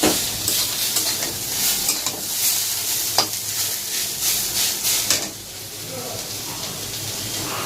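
Food sizzles and fries steadily in a pan while being stirred, a loud continuous hiss with occasional scraping clatter, in a home kitchen.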